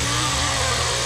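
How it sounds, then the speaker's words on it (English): A chainsaw engine in The Texas Chain Saw Massacre game roars steadily at full throttle, loud and close, with a harsh buzzing drone throughout. "The chainsaw will rev, and it'll throttle on and throttle off"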